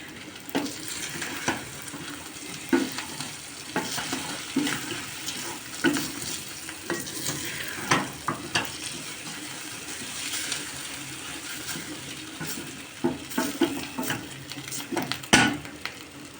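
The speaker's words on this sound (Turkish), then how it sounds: "Çıtır çıtır ses gelmesi gerek pirinçlerden." Grains crackle and sizzle steadily in a hot pot, with recurring scrapes and knocks of a spoon stirring throughout.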